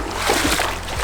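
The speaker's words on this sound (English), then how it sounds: "River crossing." A vehicle fords a river on a back road in rural Colombia, water splashing and sloshing loudly and close in one continuous churning burst under low rumble.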